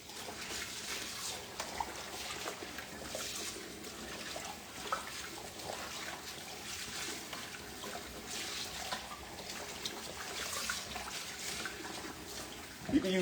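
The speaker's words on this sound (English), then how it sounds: "You want that water to run clear." Tap water runs steadily into a sink over mixed greens being rinsed after a vinegar soak, a continuous hissing splash with no break, fairly quiet and close.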